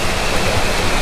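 Rushing water roars steadily as a broad, continuous wash of noise, close and loud, with no voices.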